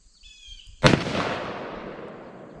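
A single sharp gunshot from a Taurus Tracker .44 Magnum revolver at a range, loud and close, with a long echoing tail that slowly fades after the crack.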